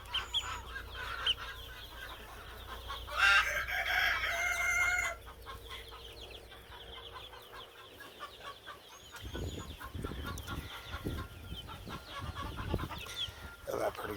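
Chickens of several mixed breeds forage for bugs under hay, with scattered clucks and a brief louder squawking burst, close by, while a person talks intermittently over soft rustling.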